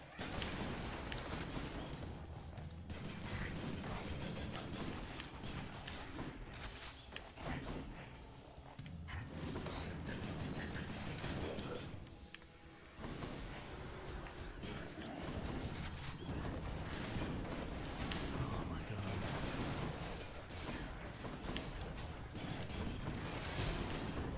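In the video game Hades, a special attack drops a pile of bombs in one spot, producing a dense run of repeated thuds and bursts that continues throughout amid busy game sound.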